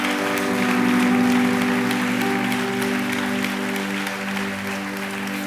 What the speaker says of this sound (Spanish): another round of applause to the Lord.